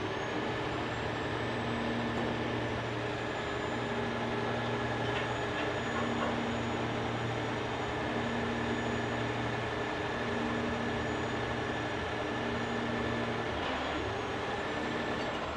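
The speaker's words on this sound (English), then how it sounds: "That sound you heard of the cables going fast, that's my idle, the high speed." The winch cables of a tow truck at a wreck scene run fast at high idle, giving a continuous droning machine hum with a steady mechanical whine. It is fairly faint and even throughout, with no speech.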